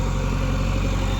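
A JCB earthmoving machine's engine idling at a murrum-digging site alongside a tractor: a brief, steady, close low rumble with no voices.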